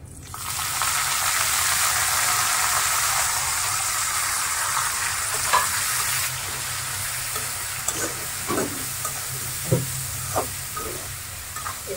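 Drumstick leaf greens fry in a pan with a steady, broad sizzle that stays loud throughout, broken by a few sharp crackles and stirring scrapes in the later seconds.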